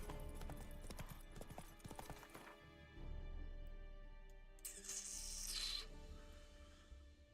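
Hoofbeats of Roach, Geralt's horse in The Witcher 3: Wild Hunt, a steady rhythmic clip-clop of galloping close by, mixed with game music and a brief hissy rush of other sound midway.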